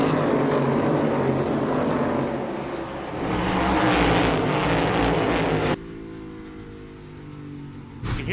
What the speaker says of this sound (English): You can hear the left front bottoming out and start slapping up the rubber.